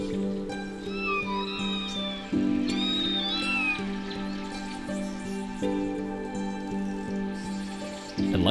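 Several small kittens meow in high, thin cries, repeated in short bursts over a low, steady background hum.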